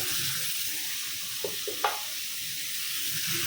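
Curry sautéing in a hot pan, a bright steady sizzling hiss close by, broken by a couple of small clinks from a spatula stirring midway through.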